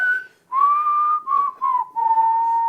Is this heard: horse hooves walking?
no